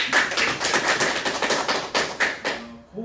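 A small crowd at a school admissions information session in Korea claps in a dense patter of hand claps for about two and a half seconds, then fades out as a voice begins.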